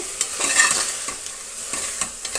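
Vegetables and soaked green peas fry in a pan for bisi bele bath and are stirred steadily, giving a constant close sizzle broken by rhythmic scraping strokes of the spoon.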